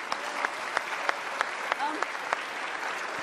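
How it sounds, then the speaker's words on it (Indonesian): Studio audience at an Indonesian talk show applauding, a steady moderate wash of clapping with a few sharper individual claps standing out at regular intervals, and faint voices underneath. "Oke, baik kita kasih tepuk tangan dong untuk Kinal."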